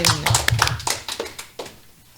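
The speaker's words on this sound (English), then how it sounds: "Let's give Josephine a round of applause again, guys" Brief applause from a small group in a local news studio, scattered hand claps tapering off over about two seconds, close and fairly light.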